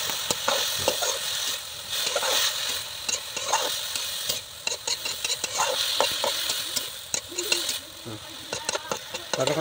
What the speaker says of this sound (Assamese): মানিমুনি ভাজি হৈছে